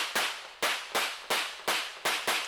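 A run of seven sharp, evenly spaced gunshots rings out during a practical shooting stage while the shooter moves, each crack followed by a brief reverberant decay.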